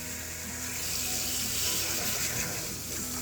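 Water from a tap gushes steadily into an aquarium bucket, a loud, continuous hissing splash that holds even throughout with no voices.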